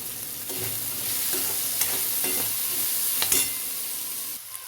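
Chana dal, split chickpeas, dry-roasting in a pan while being stirred, heard as a steady close hiss and rustle with occasional light scraping taps, with no talk.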